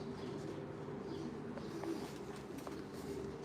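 Pigeons coo softly in a loft with nesting compartments, each pair with its own box, a low murmuring chorus of calls over quiet background hum.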